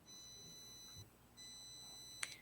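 Two sustained electronic beeps sound faintly, each lasting about a second with a short gap between them, over a quiet background ending in a brief click.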